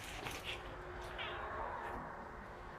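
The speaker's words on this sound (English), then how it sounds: "And here's a cat that really wants to go outside." A house cat meowing insistently to be let outside, several plaintive calls over a steady background hum in a home under renovation.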